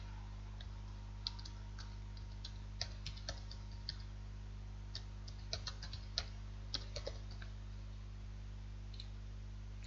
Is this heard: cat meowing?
no